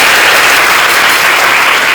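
A congregation at a worship gathering claps together in a loud, dense burst of applause that holds steady throughout, with no voices over it.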